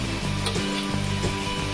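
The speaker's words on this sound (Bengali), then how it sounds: "তেল ছাড়া এটাকে আমি একটু শুকনো করে ভেজে নিব" Pumpkin leaves dry-frying in a wok over a gas flame with no oil, a steady close sizzle and hiss with faint scraping from stirring throughout.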